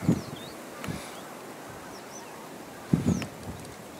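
Wild geese honking during a spring goose hunt, a few short calls carrying from a distance in open outdoor air, with a louder cluster of honks near the end.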